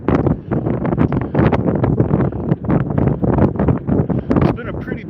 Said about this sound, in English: I'm at 19 knots of wind now